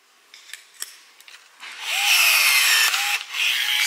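A multi-grip hand riveter pulls a rivet set through plastic, giving a few light clicks and then a sustained bright metallic rasp and hiss that breaks off once and resumes, close and fairly loud.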